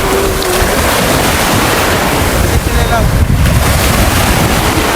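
Ocean surf roars continuously, with waves breaking on the shore at Naujan Beach, Oriental Mindoro, and wind gusting across the microphone. No one speaks clearly.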